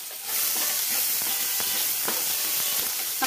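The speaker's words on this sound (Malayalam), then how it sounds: "അപ്പോൾ നമുക്കിത് നന്നായിട്ട് വഴറ്റിയെടുക്കാം." Onions and tomato sautéing in a pan for a Kerala-style karimeen pollichathu gravy, a loud steady hiss and sizzle close by, with faint stirring scrapes and no talk.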